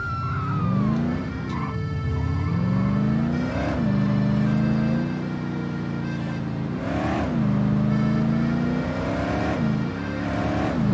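Car engine in The Godfather video game, a steady mid-pitched drone that rises and falls with repeated revs and gear shifts, loud and close throughout with no talk.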